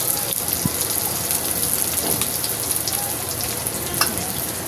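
Garlic frying and browning in a hot pan, a loud, steady, close sizzle and crackle that holds without a break, with no talking.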